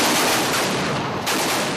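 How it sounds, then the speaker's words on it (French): Anti-aircraft guns mounted on pickup trucks open fire in combat near Tripoli, a loud, continuous roar of rapid gunfire that barely dips before resuming. "Les canons anti-aériens montés sur pick-up donnent le top départ du combat."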